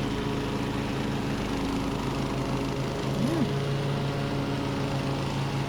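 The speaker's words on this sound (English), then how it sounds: "we have 2 mowers working, and we are moving as a unit" Steady engine drone of two lawn mowers cutting grass nearby, a continuous low hum with a brief rise in pitch partway through.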